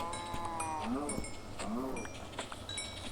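Two drawn-out cow moos from a Minecraft game, each rising and falling, heard close over faint clanking and background game sounds.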